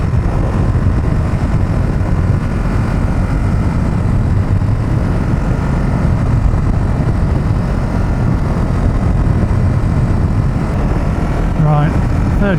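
A loud, steady, buzzing sport motorcycle engine roar accelerating in third gear fills the whole stretch, close and unbroken, with rushing wind noise mixed in.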